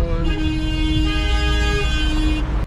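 A loud, sustained car horn blares close by in chaotic Moroccan city traffic, one long continuous honk lasting over two seconds over engine rumble.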